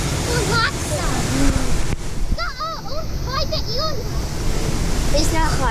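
Waimea Valley waterfall on Oahu, a constant loud roar of falling water with splashing, while children and adults talk and shout over it.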